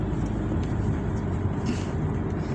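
Inside a car driving through a rural town on the outskirts of Siem Reap, Cambodia: a steady low engine and road rumble with a faint hiss, continuous and moderately quiet, no talking.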